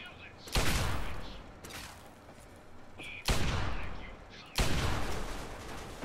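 Gunfire in Fallout 3 lands as three loud, heavy bursts, each a sharp blast with a decaying roar, spaced a couple of seconds apart over quieter game ambience.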